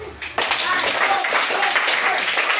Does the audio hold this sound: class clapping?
yes